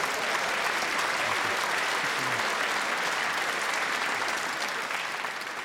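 Loud, sustained clapping from a comedy club audience after a stand-up joke, even and unbroken throughout, easing off slightly at the very end.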